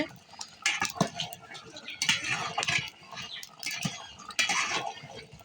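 Beef is stirred while sautéing in a pot over a rural cooking setup, with irregular scraping and clinking of a utensil against metal in uneven bursts, fairly close but moderate in level.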